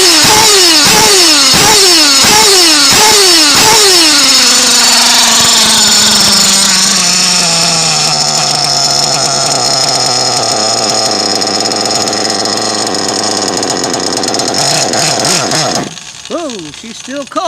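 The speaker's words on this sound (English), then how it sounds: "nothing like the smell, the sound, and the feel of nitro, people" A modded Nova .28 nitro RC engine, still cold, revs in loud blipping bursts, then settles into a sustained high-pitched whine that falls slightly before cutting off abruptly near the end.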